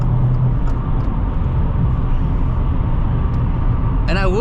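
A 2022 Subaru WRX accelerates to pass a truck, its engine a steady low drone under cabin road noise, with a brief higher whine rising near the end.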